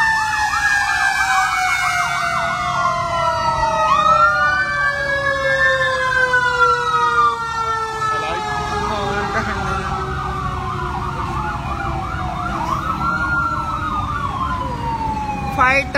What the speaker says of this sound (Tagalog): Fire truck po, andyan po oh.